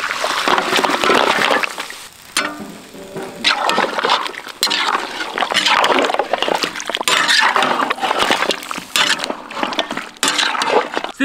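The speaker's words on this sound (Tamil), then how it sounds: "இப்போ இந்த பீஃப் நல்லியை வேக வச்ச தண்ணியோட சேர்த்துக்கலாம்." Water poured and splashing as boiled beef bone marrow is added back to its cooking liquid, a loud close run of gushing, trickling and clinking bursts with short pauses between pours.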